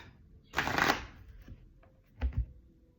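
A deck of playing cards shuffled and then cut, a quick riffling burst followed by a short pause and a soft double slap of the cut, close and alone.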